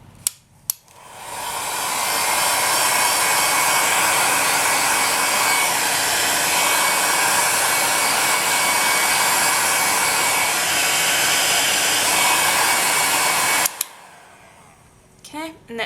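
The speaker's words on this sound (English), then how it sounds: "I'm going to be using my heat gun on the low setting" A heat gun on its low setting switches on and blows with a steady, loud whooshing roar for about twelve seconds before clicking off, followed by brief quiet.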